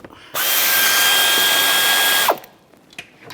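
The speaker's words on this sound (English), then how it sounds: "Now take a 11mm socket and take the banjo bolt off" Power tool, likely an impact or electric ratchet, spinning an 11mm socket to remove the brake caliper banjo bolt on a 2011-2015 Chevrolet Cruze; one loud, steady whir of about two seconds that stops abruptly, followed by faint clicks.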